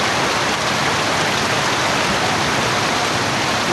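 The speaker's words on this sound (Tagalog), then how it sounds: "Sobrang lakas ng ulan." Heavy tropical rain pouring down during a street flood, a dense, constant hiss of downpour on surfaces that stays loud and unbroken with no voices.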